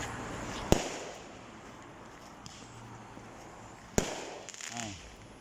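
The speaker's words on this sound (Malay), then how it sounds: "Saya boleh tengok kemeriahan bunga api." Fireworks burst on a festive Malam Raya night, two sharp, loud cracks a few seconds apart rising above a steady crackle of distant pops, with a voice speaking briefly near the end.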